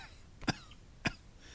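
A man reading aloud imitates a rough, hacking cough, giving two short, harsh bursts about half a second apart against a quiet background.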